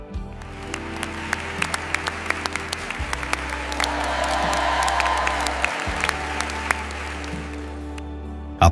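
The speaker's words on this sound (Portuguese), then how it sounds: "Aplausos ecoam por toda a igreja." Applause fills a church congregation, a steady patter of many hands clapping that swells in the middle and carries on under a low droning background tone, fairly close and sustained for several seconds.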